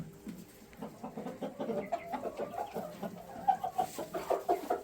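A flock of about thirty hens and seven roosters, including one large, heavy rooster, clucks in a lively, overlapping run of short calls, close by and steady throughout.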